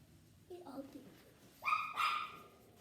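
A couple of short dog barks and yips sound faintly, one after another, in a quiet room.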